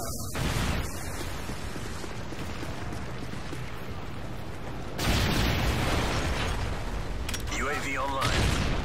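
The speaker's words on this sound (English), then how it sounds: "Predator missile inbound." Predator missile strike in Call of Duty Modern Warfare 3 multiplayer, a loud sustained explosive rumble and burst throughout, with a sharper blast near the middle amid game chatter and voices.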